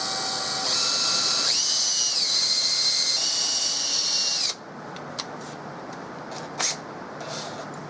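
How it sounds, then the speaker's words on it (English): A power drill boring a 1/8 inch pilot hole into a Winchester rifle stock, a steady close whine that changes pitch partway through, then stops abruptly and leaves quiet handling noises and a couple of small knocks. "Now I'll go back in with the right size 1/8 inch pilot hole."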